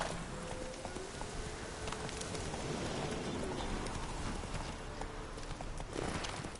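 Geralt's horse Roach galloping in The Witcher 3, steady rhythmic hoofbeats on the ground close by, with birds cooing and calling in the countryside background.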